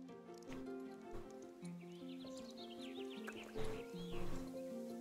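A Paso Fino horse walks in the video game Star Stable Online, its steady hoofbeats sitting under looping game music with a brief whinny near the end, all at moderate level and without speech.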